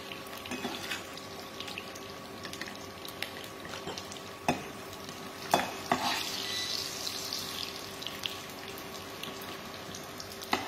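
Chopped onion frying in a pan until translucent, giving a steady close sizzle with occasional stirring clinks and scrapes, and no talking.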